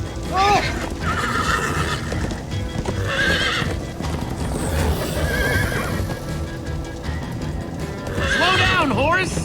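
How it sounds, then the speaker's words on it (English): Horses in the Minecraft: Story Mode video game neigh in loud descending whinnies at the start and again near the end, with galloping hoofbeats and busy game music and effects running throughout. "Slow down, horse!"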